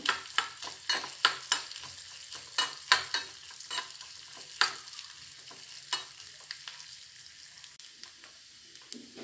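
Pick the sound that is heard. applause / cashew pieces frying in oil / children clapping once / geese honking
cashew pieces frying in oil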